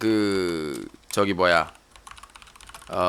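Clicks of typing on a computer keyboard, heard mostly in a brief quieter gap, while voices talk loudly over much of the clip.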